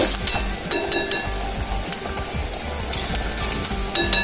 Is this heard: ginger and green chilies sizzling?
yes